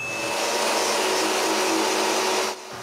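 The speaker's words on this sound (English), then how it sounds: "Now I just need to save this and cut it on the CNC." A CNC machine cuts wood for a picture frame, giving a loud, continuous whine with a faint high tone that drops slightly near the end, with no voices.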